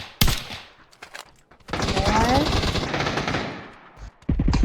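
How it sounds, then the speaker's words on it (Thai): Automatic gunfire in the PUBG battle royale game: a sharp shot, then a long sustained burst of rapid fire, loud and close, followed by more shots near the end. "ใครอ่ะใครยิง"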